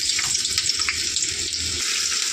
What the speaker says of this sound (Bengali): এখানে দেখো পেঁয়াজটাকে আমি একটু ভালো করে ভেজে নেব